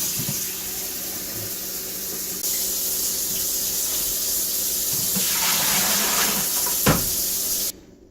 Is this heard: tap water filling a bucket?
yes